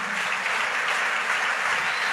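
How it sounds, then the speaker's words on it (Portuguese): Applause from a conference audience at a church podcast event, a steady, dense wash of clapping filling the short stretch at an even level without voices. "Pode aplaudir."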